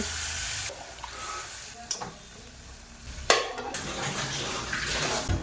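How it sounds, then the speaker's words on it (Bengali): A little water goes into a pan of frying vegetables and the pan is covered with a lid. A soft sizzle runs under a few sharp metallic clinks and knocks. "অল্প জল দিয়ে ঢেকে দেব।"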